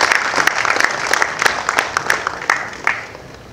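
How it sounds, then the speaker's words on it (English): Applause from a conference audience for a mobility panel coming on stage, steady clapping with sharper individual claps popping out, fairly close and filling the whole moment before tapering slightly. "And let's give them a round of applause."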